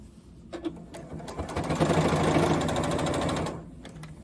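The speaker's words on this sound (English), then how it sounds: "and start sewing" A sewing machine stitches binding onto a quilt edge, starting with a few short bursts and then running in one steady, close buzzing stretch before stopping.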